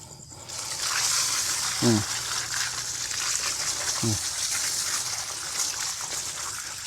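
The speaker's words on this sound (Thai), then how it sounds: "เราก็ล้างซะหน่อยก็ได้" Water sprays steadily over rice paddy herb cuttings as they are rinsed, a continuous close hiss and splash that runs throughout, with a couple of brief vocal sounds rising above it.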